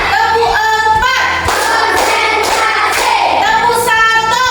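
Hands clap in a counted classroom clapping game, a quick run of sharp claps over steady background noise and a sustained tonal sound.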